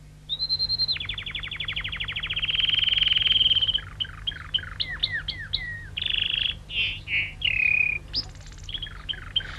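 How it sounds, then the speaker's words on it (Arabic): Nightingale song in an animated fairy tale of an emperor's caged bird: a long trill followed by rapid whistled chirps and varied phrases, clear and close, with a faint low hum beneath and no talking. "وهكذا بدأ العندليب يغرد كل صباح للإمبراطور."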